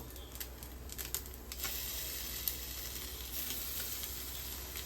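Meat roasts in ghee over a high flame, a faint steady sizzle and hiss with a few soft crackles and no talking.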